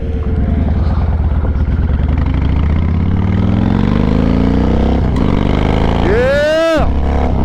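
A Warrior 1700 motorcycle engine runs steadily on gravel, a loud, close, low droning rumble that holds for several seconds before a brief rising rev near the end, with someone talking over it.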